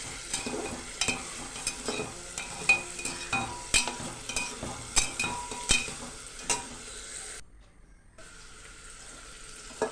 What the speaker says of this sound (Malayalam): കോവയ്ക്കും വെണ്ടയ്ക്കും പച്ചക്കറികളും ഇട്ട് കൊടുക്കാം നമുക്കത് ഇളക്കാം